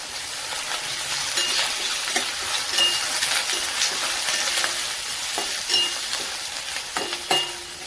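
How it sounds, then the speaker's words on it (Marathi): Green chilies, ginger, garlic and curry leaves sauté in a pan with a continuous close sizzle, punctuated by light clinks and scrapes of stirring, no voices. "सर्व साहित्य व्यवस्थित असं परतून घ्यायचंय."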